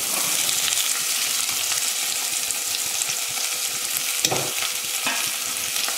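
Carrots and peas for a Chettinad vegetable kurma fry in a pan, a steady close sizzle with stirring scrapes and a few louder clinks, with no speech.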